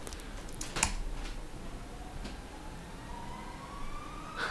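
A synth riser played in Ableton slowly sweeps upward in pitch over several seconds, faint and steady, with a few clicky ticks scattered through it.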